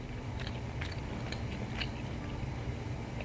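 Someone chewing a mouthful of beef shank stew, soft wet bites and mastication repeating at a steady pace, close to the microphone over a low background hum.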